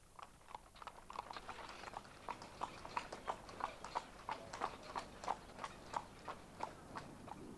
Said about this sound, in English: you must treat yourself to a ride on a horse-drawn carriage through the paradise